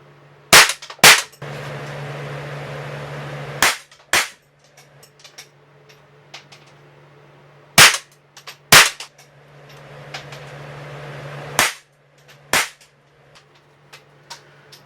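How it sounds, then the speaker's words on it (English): An AR-7 rifle fired from the hip around a corner in the dark: a series of loud, sharp cracks come in pairs and clusters with quiet gaps between, some with brief ringing echoes and a steady low hum beneath. "As you saw, shooting from the hip, here's the results"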